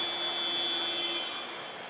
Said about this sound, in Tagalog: There's a foul, and the buzzer sounds.